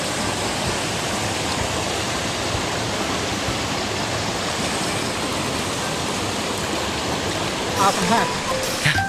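Water from a village stream flows with a constant broadband rush while people bathe in it, and a few faint voices or splashes come through near the end.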